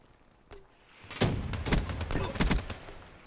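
Gunfire in Call of Duty: Black Ops III multiplayer: after a quiet moment, a rapid run of sharp shots starts and keeps going in a quick, uneven burst, fairly close and loud.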